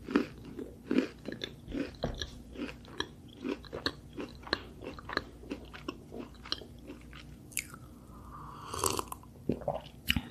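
A girl eats a scone and drinks matcha in close ASMR style, producing repeated crisp crunches and soft chewing bites in an irregular rhythm, recorded up close with no talking.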